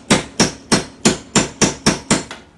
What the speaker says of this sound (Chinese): 你直接敲就可以了，直接往上敲一点点